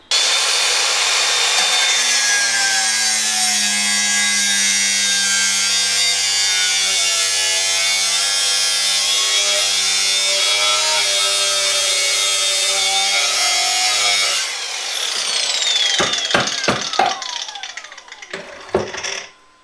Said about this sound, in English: First we have to cut off a large piece of the steel shaft.